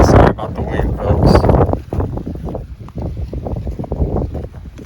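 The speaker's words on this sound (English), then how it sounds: "Sorry about the wind" Gusty wind buffets the microphone outdoors in an orchard, a loud, continuous rumbling roar that swells and eases throughout with no break.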